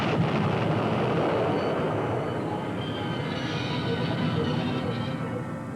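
A train driven at 100 mph strikes a derailed yellow test flask, producing a loud, broad roaring crash and rumble that slowly fades.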